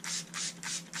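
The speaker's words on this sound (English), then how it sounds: "And now what we're going to be doing is spraying this in here" A spray bottle pumps homemade cleaner in four quick hissing spritzes, evenly spaced and close, with no voices.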